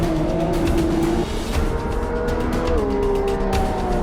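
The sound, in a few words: race car braking into a corner at Sebring, Automobilista 2 video game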